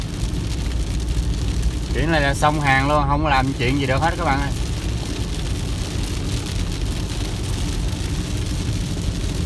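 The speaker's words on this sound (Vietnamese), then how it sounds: "Bây giờ mưa tầm tã, mưa tả tơi luôn các bạn." Heavy rain pours down steadily as a constant broadband wash throughout, with someone speaking over it for a couple of seconds near the start.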